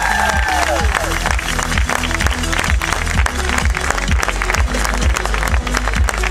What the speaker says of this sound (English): maybe give him like one last round of applause because they deserve it